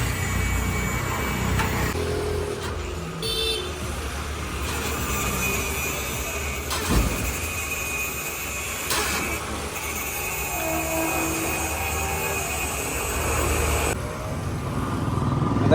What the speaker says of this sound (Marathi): गाडीचा जो टायरचा आवाज आहे तो बेरिंगमुळेच आहे